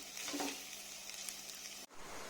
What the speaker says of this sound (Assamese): মই আলু পৰঠাত দিয়া ফিলিংছখিনি এনেকৈ মই ভাজি লওঁ অকমান তেলত দি পেলাই।